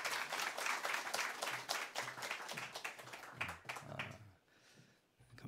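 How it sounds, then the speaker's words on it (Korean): A church congregation applauds to welcome a pastor at a dawn prayer service, brisk rhythmic clapping that holds steady, thins out and stops near the end, leaving quiet room tone. "오늘 축도는 우리 이재기 목사님께서 해주기 박수로 한번 맞으시길 바랍니다"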